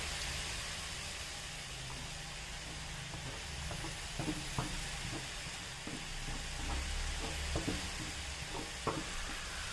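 Masala paste stirred into plantain frying in a pan, with a steady sizzle underneath and intermittent scraping clicks of a spoon against the pan, fairly quiet and close.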